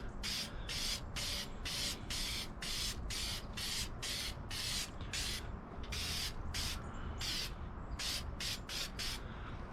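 Rapid bursts of 3M Super 77 spray adhesive hissing from an aerosol can, about twenty short even puffs in a steady rhythm, close and loud, applied as a light coat while reupholstering a sun visor.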